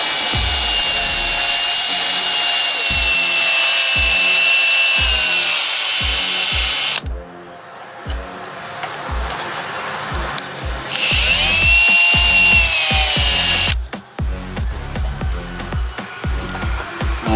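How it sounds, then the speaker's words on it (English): A power drill bores out aluminum pop rivets on a Kawasaki Mule part in two loud, sustained bursts of high-pitched whining, the motor rising and falling with rhythmic grinding pulses and brief pauses between cuts. "We're going to drill through them and the bottom should fall out."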